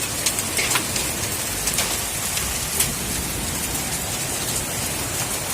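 Summer rain pours steadily and runs off three roofs, making a dense, even hiss of drops with occasional sharper taps close by. It continues unbroken for the whole stretch, with no one talking.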